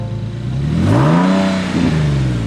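An Infiniti engine fitted with an HPS intake revving up in one loud, close blip that rises and falls, followed by a smaller second blip over a steady idle.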